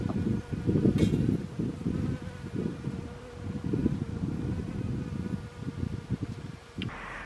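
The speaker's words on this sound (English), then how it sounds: "Bee!" A bee buzzes close by in a summer garden, a continuous low droning hum that wavers in loudness as it moves around, with no voices.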